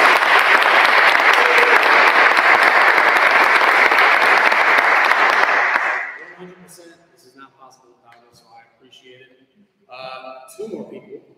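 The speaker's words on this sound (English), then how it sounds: "Big applause to her for my help." An audience at a graduate recital breaks into loud, sustained applause lasting about six seconds, then fades out as a speaker continues talking.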